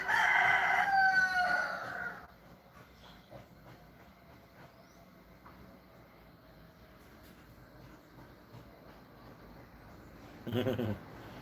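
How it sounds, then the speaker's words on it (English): A rooster crows loudly for about two seconds at the start, then faint outdoor background with a brief low thump near the end. "Rooster sounding hungry, Rooster making me hungry."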